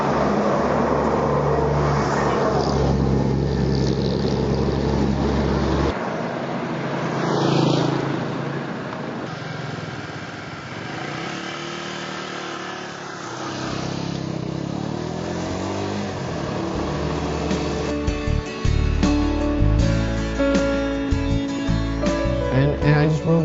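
A motorcycle in Laos, freshly fixed with a new spark plug, runs steadily with engine drone and wind, then revs and accelerates with sharper bursts toward the end.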